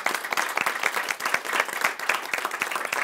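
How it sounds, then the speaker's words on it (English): An audience applauds warmly, a dense continuous wash of many hands clapping at moderate volume with no talk over it. "I think Villanova should get a hand clap for that."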